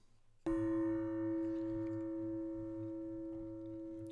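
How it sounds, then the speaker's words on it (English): A gong is struck once with a sudden loud attack, then a sustained bright metallic tone with steady high overtones rings out and slowly fades, heard alone and close. "This is my gong."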